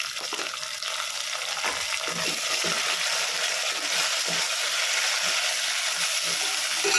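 Tomatoes sautéing in a pan with browned onions for kara kulambu, a continuous close hiss of sizzling with soft scraping stirs scattered throughout.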